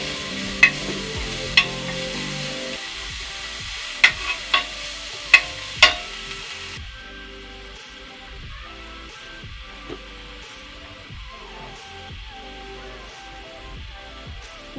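Fish curry base with tomatoes frying in a pan, a steady sizzle under repeated sharp clinks of a utensil against the pan early on, then a quieter continuous fry with soft stirring.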